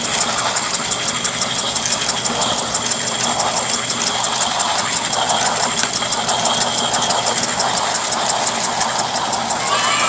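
A washing machine motor drives a homemade peanut butter grinder, giving a steady whirring drone with a rapid mechanical rattle that runs continuously throughout.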